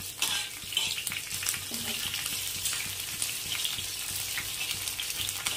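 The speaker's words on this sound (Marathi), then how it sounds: "बघा डाग पडेपर्यंत असं याला तळून घ्यायचं आहे" Green chillies fry with garlic in a pan over low heat, giving a steady close sizzle and crackle with occasional stirring scrapes. No one speaks.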